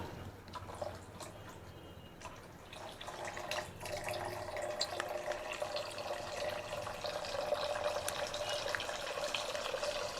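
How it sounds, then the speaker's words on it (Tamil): Half a litre of milk pours steadily into a cooking pot for wedding-style biryani, a continuous liquid splash and trickle that grows slightly louder midway and runs on alone without talk. "இப்போ நம்ம என்ன பண்ணலாம் அப்படின்னா மில்க் ஆட் பண்ணலாம்"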